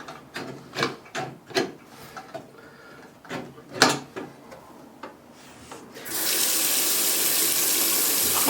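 Water from a bathroom sink faucet starts rushing steadily after a series of sharp knocks and clicks from the drain pop-up being worked, the flow loud and close, with no talk.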